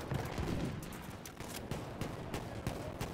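Anti-air cannon fire in Battlefield 1, a steady run of sharp bursts and thumps repeating through a dense, loud wash of battle noise, with no voices.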